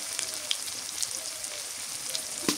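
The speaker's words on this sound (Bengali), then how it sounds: "পেঁয়াজ বাটা দিলাম" Onion paste with turmeric powder frying in a pan for salmon curry, a steady close crackling sizzle with scattered sharp pops, without any talking.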